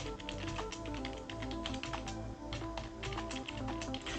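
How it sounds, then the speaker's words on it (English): Fast typing on a computer keyboard while chatting during a live stream, a dense steady stream of close key clicks and taps with no pauses, alone without talk. "I'm just typing something in the chat."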